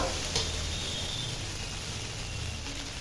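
Egg fried rice sizzling in a hot pan on the stove, a steady close crackle and hiss with no talking.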